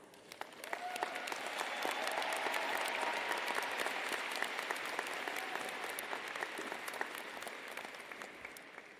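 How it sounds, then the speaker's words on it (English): Sustained audience applause at a university commencement ceremony, a steady dense wash of clapping for the graduates that holds across the whole stretch with no voices over it. "You have all earned this moment and deserve a round of applause."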